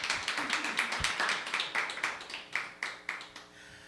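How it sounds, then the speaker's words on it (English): An indoor audience claps for a bar's founder, a burst of scattered, fairly close applause that thins into a few separate claps and fades out. "Please give a round of applause for Jake"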